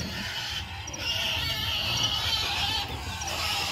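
A mother hen clucks while leading her chicks to bed on a farm, over a steady wash of background noise and chick peeps, moderately near.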